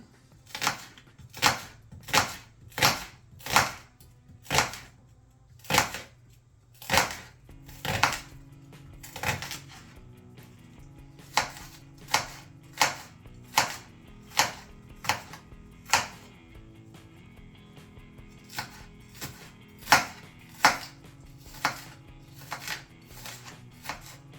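A knife chops a large onion on a cutting board in quick runs of sharp, crisp knocks, each stroke distinct and close, with brief pauses between bursts and no talking.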